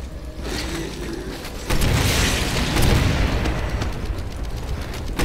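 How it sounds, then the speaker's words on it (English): Grenades burst in a shooter video game, a dense run of heavy booms and rumbling blasts piling up loud over five seconds, the last swelling stronger, with no voices over them. "Can you stop shooting grenades?"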